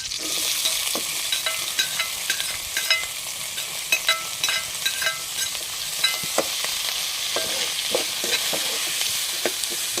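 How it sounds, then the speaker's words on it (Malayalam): Chopped onion with chilli and garlic fries in a pan, a steady close sizzle broken by frequent light stirring scrapes and clicks throughout, with no talking. "മുളക് വെളുത്തുള്ളി ഇത് ഇട്ട് കൊടുക്കാം ഇതിലേക്ക് നമ്മൾ അരിഞ്ഞു വെച്ചിരിക്കുന്ന സവാള"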